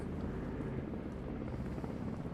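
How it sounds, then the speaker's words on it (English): Makeshift helicopter flying in the survival game Hide & Hold Out, a dense, continuous rotor and engine roar, loud and unbroken, with no voices. "It's like one of those makeshift helis, isn't it?"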